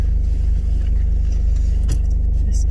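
A car engine rumbles low and steady while reversing outside a school at pickup time, with faint clinks and rustles close by and no clear talk.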